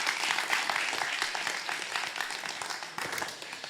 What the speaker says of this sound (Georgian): ტაში, ბიჭო.